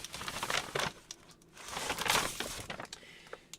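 A Target plastic shopping bag is handled and crinkled close up, giving crisp, uneven rustling bursts with short pauses, two heavier surges of crackling and scattered small crinkles in between, with no speech.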